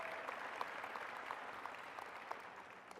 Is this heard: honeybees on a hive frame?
no